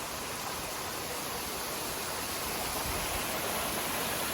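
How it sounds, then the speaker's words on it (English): A creek flows through Gondwana rainforest, a steady broadband rush of running water that stays even and continuous throughout, fairly close and with no voices over it. "Such a bloody nice creek though"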